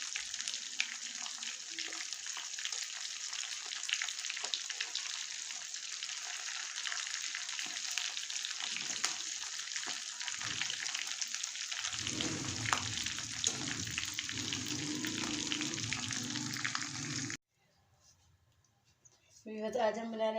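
Chicken drumsticks fry in oil with a loud, continuous crackling sizzle that runs for most of the stretch, then stops abruptly as the pieces come out, leaving quieter kitchen sounds.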